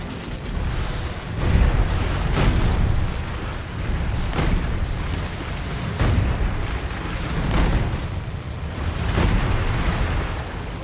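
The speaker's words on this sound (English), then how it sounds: "the explosion destroys the enemies." Explosions in the video game Anno 2205 destroy enemies, with repeated booming bursts every second or two over a continuous dense roar of game sound.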